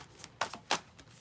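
A deck of cards is shuffled, a few quick soft riffling bursts, close and quiet.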